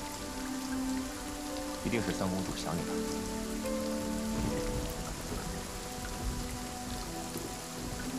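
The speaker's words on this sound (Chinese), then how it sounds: "下雨" Steady rain pours down throughout, a dense continuous hiss at moderate loudness, while a voice speaks over it near the end.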